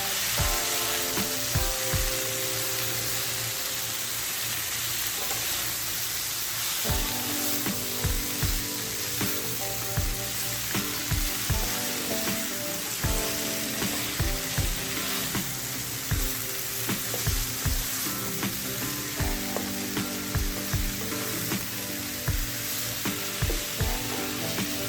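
Tofu, mushroom and bean sprout mixture stir-fried in a pan, a steady sizzle under repeated scraping and clacking of a utensil against the pan, close and continuous.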